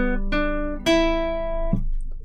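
Guitar riff picked on open strings in a simple song: three plucked notes ringing out one after another with sustained tones, played alone without talk.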